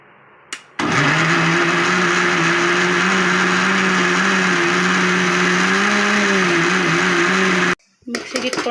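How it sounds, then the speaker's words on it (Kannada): A kitchen mixer grinder runs loud and steady, grinding fried masala with onion and tomato, its whirring motor holding for about seven seconds before cutting off abruptly. "ಈಗ ನಾವು ಆವಾಗಲೇ ಫ್ರೈ ಮಾಡಿ ಇಟ್ಕೊಂಡಿರೋದನ್ನ ಮಿಕ್ಸಿಗೆ ಹಾಕ್ಕೊಳ್ಳೋಣ."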